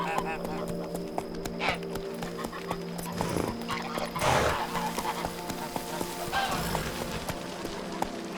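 A horse gallops in The Witcher 3, hooves clip-clopping in a quick repeating rhythm at moderate volume, with occasional snorts, ambient game sound and a voice speaking over it.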